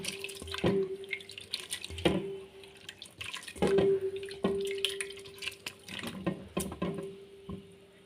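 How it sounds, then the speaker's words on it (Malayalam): Water is added to a curry in a pot, heard up close as intermittent pouring splashes and drips with a faint steady hum underneath. "ഞാനിപ്പോൾ ഇതിൻ്റെ കൂടെ കുറച്ചും കൂടെ വെള്ളം ചേർക്കാം"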